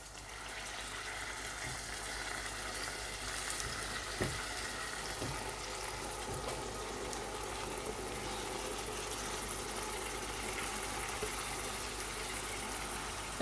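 Minced lamb keema with freshly chopped tomatoes frying in a pan for an aloo keema curry, giving a steady, even sizzle throughout with a few soft knocks and no talking.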